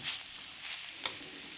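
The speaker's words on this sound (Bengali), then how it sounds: "এই যে ভাজা আলুগুলো মিশিয়ে দিলাম, দিয়ে হালকা নেড়ে চেড়ে মিশিয়ে দেবো কড়াইশুঁটি।" Fried potatoes being stirred into mutton keema in a wok give a low, steady sizzle with a few soft scraping strokes of a spoon against the pan. No voices.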